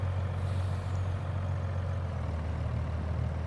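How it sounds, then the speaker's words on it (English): Truck engine in Farming Simulator 22 running steadily, a low constant hum with a deep droning tone and no breaks, close and alone with no talk. "we're going to move the truck right over here"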